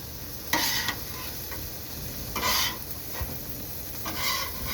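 Homemade hibachi stirred on a hot griddle, a steady sizzle broken by three louder bursts of scraping and mixing spaced a couple of seconds apart.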